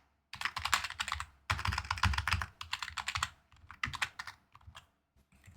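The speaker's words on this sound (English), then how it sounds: "Oh my, I am typing so well today" Rapid typing on a computer keyboard comes in dense bursts of clicking keystrokes with short pauses between runs, close and crisp with no voice over it.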